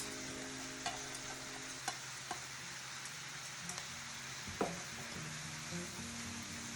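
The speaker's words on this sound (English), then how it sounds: "So now I'm going to add in 2 large carrots and 3 to 4 celery stalks" Diced carrots and celery are added to a frying pan of softened onions for a wild rice dish. The pan gives a steady, soft sizzle with occasional stirring clicks and scrapes.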